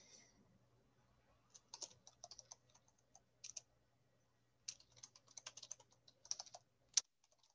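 Typing on a computer keyboard, bursts of quick close key clicks separated by pauses, with a faint steady hum in the background.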